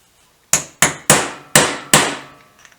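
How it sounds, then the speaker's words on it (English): Five sharp, ringing hammer blows on a small, blunt chisel, struck against a part of a Royal Enfield 350 trials motorcycle, evenly spaced and close, each decaying quickly into silence. "So I think we'll try with a small chisel."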